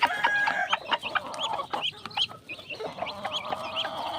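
Pet chicks and hens cluck close by in a coop at feeding time, with a busy run of short clucks and high peeps that goes on throughout.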